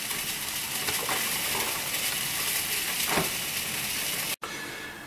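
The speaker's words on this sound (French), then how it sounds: "le café qui est en train de s'écouler gentiment" A programmable HOMGEEK coffee maker lets coffee run gently into the cup with a steady close hiss and trickle, cut short by a brief gap near the end.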